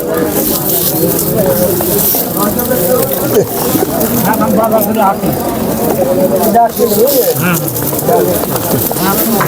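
Pigeons cooing and fluttering at a busy pigeon market in Nazirpur, Bangladesh, a steady dense murmur of birds close by with people talking over it throughout.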